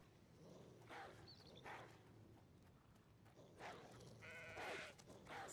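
Sheep bleating in a video game, several short bleats at intervals over a low background of ambient game sound, moderately close and clear.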